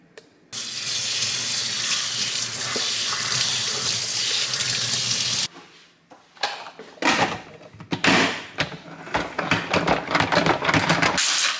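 Kitchen tap runs in a steady, loud stream into a sink while lettuce is washed, then stops and gives way to irregular splashing, rinsing and clattering close by, with no speech.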